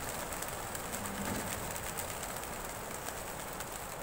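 Racing pigeons released at 7 a.m. in Caranglan give faint, soft cooing over a steady hissing outdoor background, with no voices.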